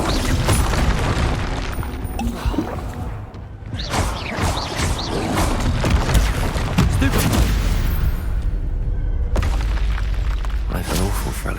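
Spell blasts and booming impacts from the Hogwarts Legacy video game burst loudly and continuously, with crashes and shattering bursts layered over a dense, busy combat soundscape.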